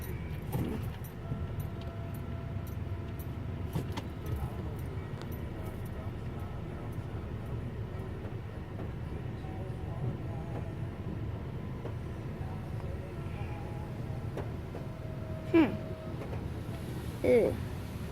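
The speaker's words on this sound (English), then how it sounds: "Entering the car wash." Automatic car wash running with a car inside, a steady loud wash of water spray and machinery rumble, with a couple of sharper knocks near the end and people talking faintly inside the car.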